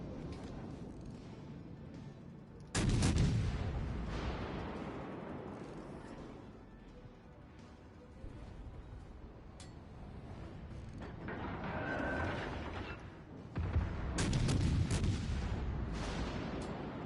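Heavy naval guns booming in the warship battle game World of Warships Legends: a deep, loud salvo with a long rolling tail, a quieter swell in the middle, then another powerful salvo near the end.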